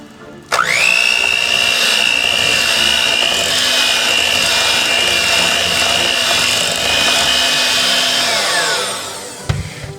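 An electric mixer creams cream cheese with granulated sugar, starting with a sharp jump and holding a loud, steady motor whine for about eight seconds before winding down, followed by a brief clatter.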